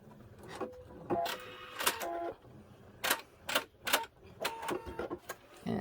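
A sewing machine stitches in short, stop-start bursts to lock a stitch, giving a series of brief whirring pulses and clicks with quiet gaps between them.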